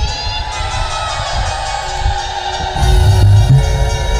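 A crowd at a Jagannath katha, a religious discourse gathering, ululates in hulahuli and chants Haribol with clapping: a dense, loud, continuous wash of voices that swells louder near the end.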